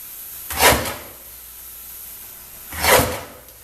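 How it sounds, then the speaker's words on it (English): A cutter slices 8x10 film negatives lengthwise into strips, two short, separate rasping swipes about two seconds apart, close and moderately loud against a quiet background. "I'll cut them 1 inch lengthwise that way"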